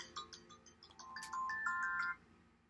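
A phone ringtone plays a short, faint electronic melody of bright repeating tones, rising to a sustained chime before cutting off, with no voices.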